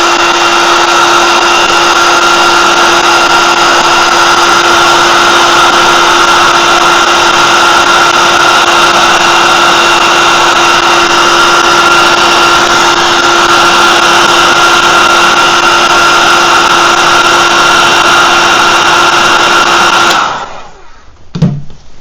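Vintage HPI Savage 25 nitro RC truck engine running without an air filter, a loud steady high-pitched buzz holding for about twenty seconds before cutting off abruptly.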